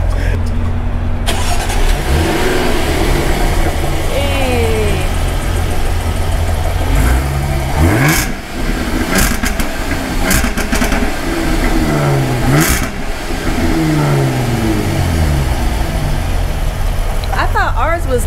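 A V6 car engine revs repeatedly, loud and close, rising and falling in pitch with throaty pulls. Outdoor noise and people talking continue underneath throughout.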